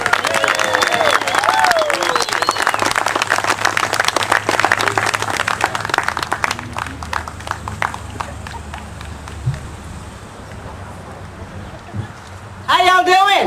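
An audience at a West Texas campaign event for a 2010 Democratic candidate claps and cheers, loud at first and then thinning to scattered claps, before a voice comes in at the end.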